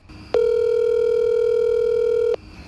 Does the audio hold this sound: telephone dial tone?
yes